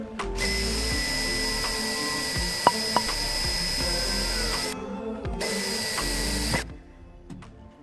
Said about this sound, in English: so small angle drill. Try to get this out, make it bigger for the reef nut